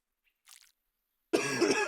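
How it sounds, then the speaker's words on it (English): A streamer still recovering from an illness gives a quick, close cough burst near the end, after a faint short earlier sound and otherwise silence. "I do apologize if I cough."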